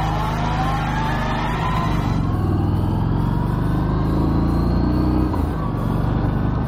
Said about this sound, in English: the biggest disappointment with this engine has to be that standard exhaust note